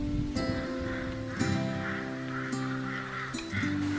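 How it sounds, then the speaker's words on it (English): Several loud, harsh cawing calls of crows ring out in bursts at irregular intervals, close by, with a steady outdoor hill-station background between them, in Naldehra near Shimla. "The sound you can hear is of the crows."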